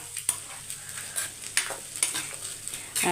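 A spoon stirs a potato mixture in a pan, soft scraping strokes at an irregular rhythm over a faint sizzle, close and quiet.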